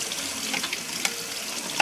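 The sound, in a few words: rinsing a smart slicer under hot tap water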